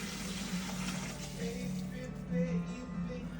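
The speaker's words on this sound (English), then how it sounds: "So we put the water in there." Tap water runs steadily into a container while mixing mushroom substrate, a soft continuous gurgling stream heard up close at low volume.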